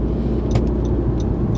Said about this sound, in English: I'm actually in a loaner car right now.